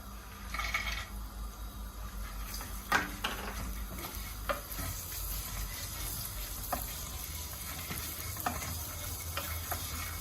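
Walnuts and erişte noodles toast together in a pan, giving a soft continuous sizzle broken by scraping stirs and a few clicks of a utensil against the pan, with no voices.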